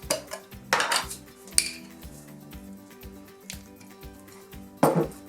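A spoon scoops coconut oil and taps against a metal pan while a coconut chicken and sweet potato curry is being started. Sharp, close clinks and scrapes come in scattered bursts with quiet gaps between them, and no one speaks.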